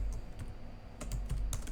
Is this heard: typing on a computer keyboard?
yes